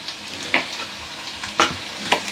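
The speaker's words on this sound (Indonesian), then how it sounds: "Ini mau saya tumis dulu." Garlic, onion and tomato are sautéed for a seafood soup, giving a soft steady sizzle near the mic with three sharper scraping stir strokes spaced through the short stretch.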